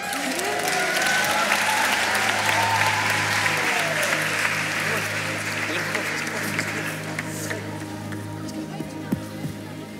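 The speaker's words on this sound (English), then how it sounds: "I think they need a bigger round of applause for that" Family carol service audience at St Peter's Brighton applauding after a reading, with broad, sustained crowd clapping and voices and murmuring mixed in beneath it.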